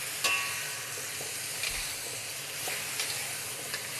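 Scallions hitting a very hot wok on a BlueStar cooktop set off a loud, steady sizzle and hiss, with a few stirring clanks and scrapes over the frying.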